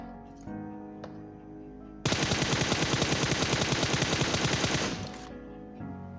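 Sustained automatic gunfire spray in a battle royale shooter game, a rapid, even burst of shots lasting about three seconds, loud and close, standing out sharply from the quieter game ambience before and after.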